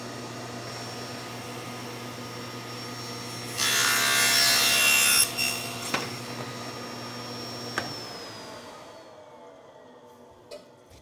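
A saw makes a miter cut through wood on a shop-made sled: a steady motor hum swells into a brief, loud, hissing cut of about two seconds. The hum then winds down with a few faint knocks.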